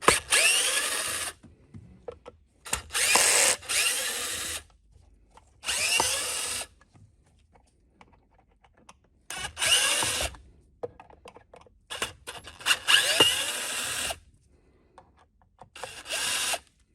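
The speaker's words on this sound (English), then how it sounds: "So there's a total of these 6 screws as said by the instructions. We're just going to pull these out." A power tool backs six screws out of the base of a submersible water pump in short whirring bursts of a second or two, separated by quiet gaps, close and fairly loud.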